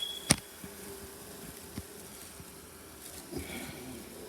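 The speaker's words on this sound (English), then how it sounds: "There's still a lot of bees back there" Honeybees buzzing inside a house wall cavity, a low steady hum with a few sharper close passes and faint clicks, no voices.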